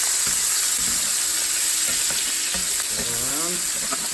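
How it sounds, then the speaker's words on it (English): Flavorings and beef stock hit a hot pan and sizzle loudly and steadily, a dense frying hiss close by with a few brief clinks and bubbling pops near the end. "We're going to back up because it's going to sizzle pretty good."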